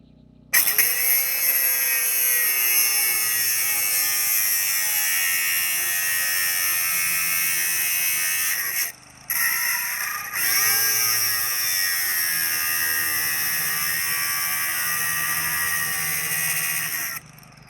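A grinder runs loud and steady at close range during restoration of a frost-damaged Wormald WW-2 water cannon, holding a high whine with a brief cutoff and restart near the middle before it winds down.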